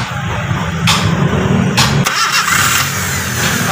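A car engine cranks on a relay-wired starter motor in a short, loud burst, then catches and settles into a close, steady idle.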